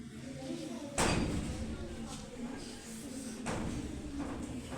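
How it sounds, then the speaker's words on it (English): A door is shut once with a single sharp bang, followed by a busy room with people talking throughout. "Shut the door, please."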